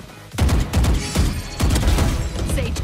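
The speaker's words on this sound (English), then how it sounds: "Placing swarm grenade" Killjoy's swarm grenade from Valorant going off, a quick string of popping, crackling blasts in a steady rhythm, loud and close, with the bursts continuing for a few seconds.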